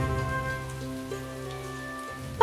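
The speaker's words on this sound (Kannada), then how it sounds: "ಮಳೆ ಬೇರೆ ಬರ್ತಿದೆ." Cartoon rain falls as a soft, steady patter beneath sustained musical tones, ending in a brief sharp burst.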